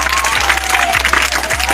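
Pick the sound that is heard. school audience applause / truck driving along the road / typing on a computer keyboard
school audience applause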